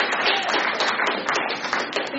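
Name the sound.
audience applause at a poetry reading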